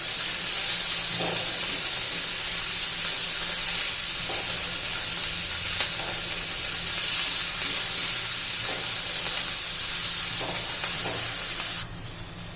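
Green chillies frying in hot oil, a steady bright sizzle and hiss close by, continuous throughout with faint clinks and stirs, easing slightly at the very end.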